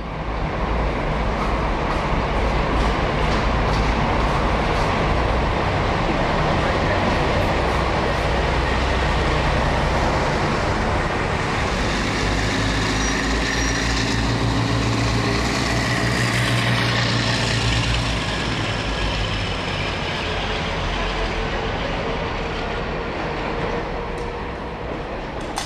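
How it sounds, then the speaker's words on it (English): A Class 52 Western diesel hydraulic locomotive rumbles past in a steady, loud, continuous roar with rail noise, swelling slightly midway and fading a little toward the end. "Unusually, these were diesel hydraulic locomotives."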